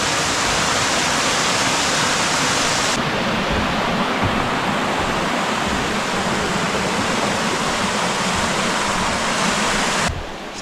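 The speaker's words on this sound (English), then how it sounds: "something very soothing about walking along and hearing water flowing." Steady, loud rushing of flowing water fills the whole stretch, a dense continuous wash with no voices.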